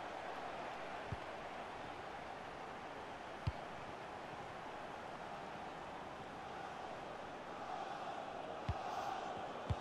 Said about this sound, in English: Well, the crowd are certainly not happy.